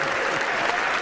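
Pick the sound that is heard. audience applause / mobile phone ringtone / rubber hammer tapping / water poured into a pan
audience applause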